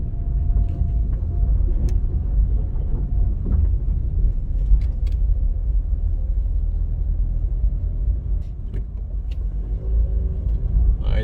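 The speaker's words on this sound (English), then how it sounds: "we're gonna turn back and then we do a downhill drive" Car driving downhill along Millsborough Avenue in Kingston, Jamaica, a steady close low engine and road rumble filling the whole stretch with little variation.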